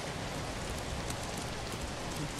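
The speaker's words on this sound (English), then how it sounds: "Pouring rain." Pouring rain falls in the zombie video game ZombiU, a faint, steady hiss of dense drops that runs evenly through the whole short stretch.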